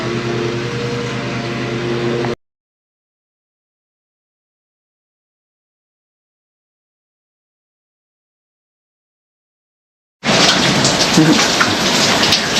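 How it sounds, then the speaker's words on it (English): Rain and distant thunder from a storm fill the opening seconds, then cut to total silence before heavier rainfall resumes loudly at the end. "thunder, lightning, and some more rain."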